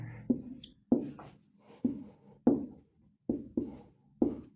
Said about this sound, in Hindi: लिख लेते हैं पहले।